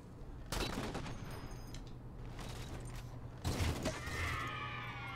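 Gunfire in the Halo 4 video game, loud bursts of shots at the start and again later, with a steady rumble of battle underneath and no talk.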